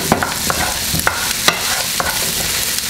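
Asparagus and mushrooms cooking in a pan, with a steady frying sizzle under repeated clinks and scrapes of stirring at a regular pace, close up and without talk.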